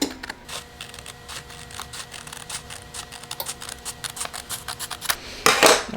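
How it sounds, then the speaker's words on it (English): Sublimation paper being cut by hand along a line for a tumbler: a steady run of close, crisp little snips at a quick even pace, ending in a louder rustle of paper being handled. "I'm just gonna cut the bottom, cutting it right on that black line."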